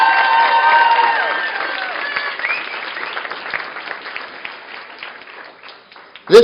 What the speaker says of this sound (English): can you guys clap it up for Brent and his entire team right now